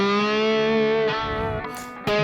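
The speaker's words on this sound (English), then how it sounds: "Now comes the next, the very typical vibrato of bottleneck." Distorted electric slide guitar played with a bottleneck, a sustained note wavering in steady vibrato with rich harmonics, close and loud, briefly re-picked twice near the end.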